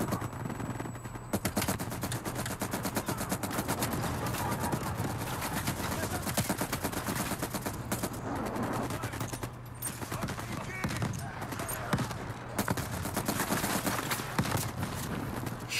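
Rapid automatic gunfire in a Call of Duty Black Ops Cold War campaign firefight, dense bursts of shots rattling almost continuously with shouting players' voices over the top.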